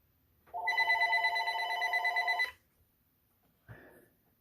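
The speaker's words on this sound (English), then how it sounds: "Oh, that would be my phone." A telephone rings nearby with one loud, electronic trilling burst of about two seconds, followed by a short quiet gap and a brief fainter chirp.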